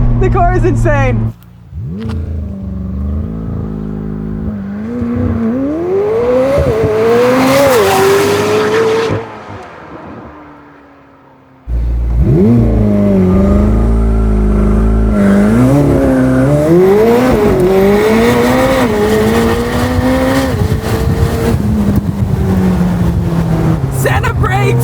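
A 2022 McLaren 765LT Spider roars through hard acceleration and braking, with loud engine revs and rising tones, a brief quieter gap, then more revving and possible tire squeal, all close and loud with talk over it.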